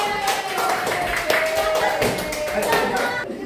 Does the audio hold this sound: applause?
yes